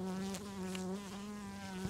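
Honeybees at an open hive with drones present hum in a steady, close, continuous drone with a rich harmonic buzz and no talking.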